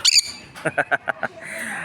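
A sun conure parrot lets out a sharp squawk, then a rapid series of about six harsh, rhythmic calls, ending in a longer raspy squeal, close and loud.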